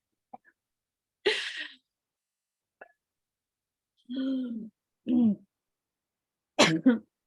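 Several separate coughs break through near silence, some sharp and single, others in short bursts of two, close to the listener.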